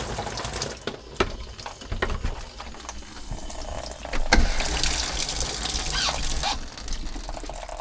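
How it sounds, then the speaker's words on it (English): Water runs from a high-pressure RV shower head in a continuous hissing spray, rising and getting louder partway through, with scattered clicks and knocks but no voices. "I'm gonna let that water kind of flow out of there"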